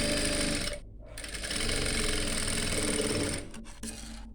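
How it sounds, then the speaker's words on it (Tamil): Sewing machine stitching along the curve of fabric pieces during a tailoring lesson, running in steady continuous bursts with a brief pause near the start and short stops near the end, close and fairly loud. "அதே மாதிரி இந்த சைடுக்கும் ஸ்டிச் பண்ணிக்கலாம்"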